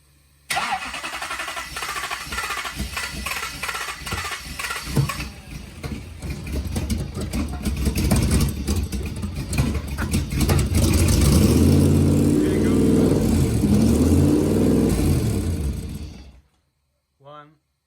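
A twin-turbo V8 engine in a Ford Focus project car cranks and catches, then runs loudly up close with a rough idle and some revving before abruptly shutting off.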